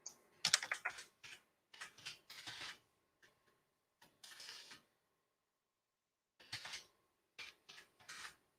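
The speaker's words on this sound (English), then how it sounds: "Let me type it in here." Quiet bursts of typing on a computer keyboard while a website address is entered, short clusters of key taps separated by silent gaps, close and soft, with no speech.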